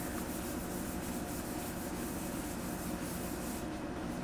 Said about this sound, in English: rubbing the drywall compound and clean the areas